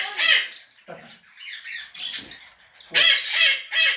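Parrots at a parrot centre let out loud, harsh squawks in close bursts, with several raspy cries in a row and short pauses between them.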